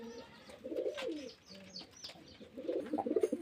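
Pigeons at a pigeon sale place coo softly in several short, rolling bursts, fairly faint and close, with light background noise and no speech.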